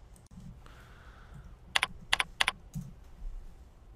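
Search terms typed into a call center phone directory on a computer keyboard, heard as a short burst of crisp, close key clicks in a few quick clusters, alone in an otherwise quiet room.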